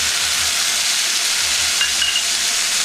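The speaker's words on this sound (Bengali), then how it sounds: "মশলাটা ভালো করে ভেজে নেব।" Spice paste with green chilli frying in a pan: a loud, continuous close sizzle and hiss with no breaks and no voices.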